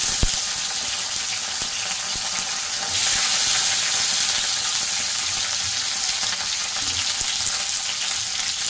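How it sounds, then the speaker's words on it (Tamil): Onions and tomatoes sautéing in a pan, giving a steady, dense sizzle that carries on without a break. No one speaks. "இப்போ இதை வந்து நல்லா வதக்கிடணும்."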